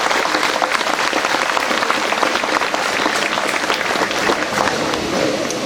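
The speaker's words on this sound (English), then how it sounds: "Let's give them a round of applause," An audience at a riverside quarter ceremony breaks into steady, dense applause, many hands clapping together at moderate distance for several seconds without pause.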